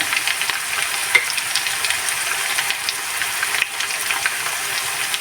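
Onion paste fries in a pan for a rohu fish dopeyaja while being stirred, a loud, close, even sizzle with occasional spatula scrapes and small pops.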